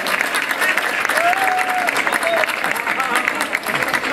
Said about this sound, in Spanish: así que el Xavai tendrá que dar un aplauso fuerte.